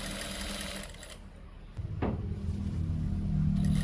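A sewing machine stitches a shirt with a steady mechanical hum and low rumble that swells louder toward the end.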